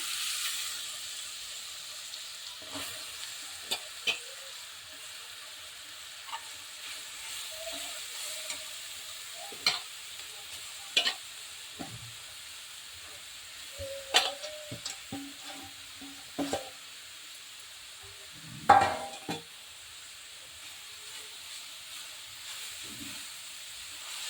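Grated carrot roasts slowly in a pan over a low flame, giving a soft, steady sizzle broken by occasional scraping stirs and clinks of a spoon against the pan.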